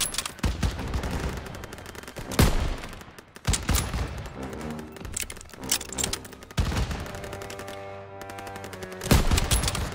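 Gunfire in the World War II shooter Call of Duty WWII: dense bursts of rifle and machine-gun fire, loud sharp volleys that come in clusters with brief lulls and echoing crackle between them.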